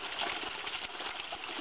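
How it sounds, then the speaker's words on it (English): Continuous rush of water flowing past a plunger valve in the subterranean chamber of the Great Pyramid, a steady close gush with slight fluctuations and no talk. "So when water starts flowing by it, it causes enough drag to cause it to slam shut and cause the water to compress"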